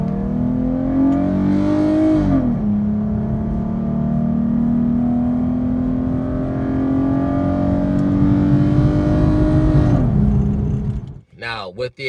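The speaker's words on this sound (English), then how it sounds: "Now I'm gonna throw an exhaust clip up in here, probably inside the cabin" A V6 Dodge Charger or Challenger with an aftermarket exhaust, heard from inside the cabin as a steady droning rev climbs, holds, then drops, before the engine noise cuts off abruptly.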